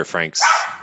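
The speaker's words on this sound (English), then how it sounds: "Sorry about the dog" A dog barks in the background during an online technical talk, a few sharp yips and barks overlapping and mixed with a person speaking.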